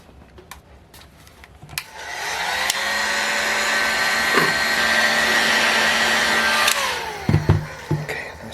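A heat gun warms the front bearing housing of a Boca Bearing Moki 180, switching on after a few clicks and handling noises into a steady loud blowing whir for about five seconds, then shutting off amid further clattering.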